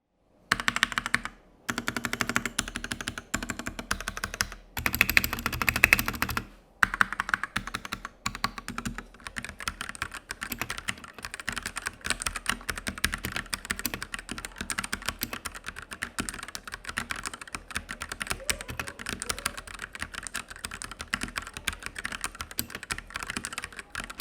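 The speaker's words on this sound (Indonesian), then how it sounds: "untuk typing feel dari Gateron Switch yang gue dapat ini ya kurang lebih kayak gini." Someone types steadily on a white Noir N1 V2 mechanical keyboard fitted with Gateron switches, making a dense, quick run of close keystroke clicks with a few short pauses, and nobody talks.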